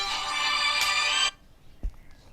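A mobile phone's ringtone plays loud and close for about a second for an incoming call, then stops abruptly, followed by a soft thump.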